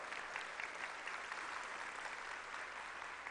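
Steady applause fills a school auditorium during an opening-day program, welcoming returning alumni and retired staff; even, continuous clapping from a sizable crowd, fairly distant and uniform throughout.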